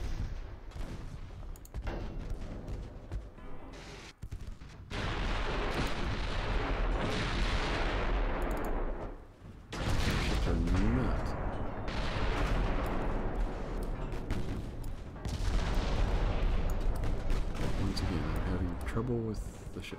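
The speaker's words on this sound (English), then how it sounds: "It's got 15 inch guns, 515." HMS Hood's 15-inch naval guns firing in the Ultimate Admiral: Dreadnoughts game, heavy booming salvos in sustained loud bursts with brief lulls, and a voice talking over the bombardment.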